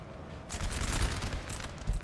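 Artillery and musket volleys rumble in a Napoleon: Total War 4v4 battle, with a dense, crackling roar of massed gunfire and deep booms rolling continuously at moderate loudness.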